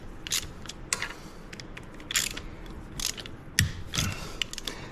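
A 3/16 socket ratchet loosens bolts on a 2020 Harley-Davidson Lowrider S, giving close, crisp bursts of pawl clicking in irregular strokes, several quick ratcheting runs separated by brief pauses.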